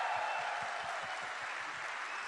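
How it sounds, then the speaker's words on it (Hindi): An audience at a business seminar in Gujarat claps steadily and loudly, a dense continuous wash of applause that holds at an even level throughout without any speech over it. "जोरदार ताली उसके लिए।"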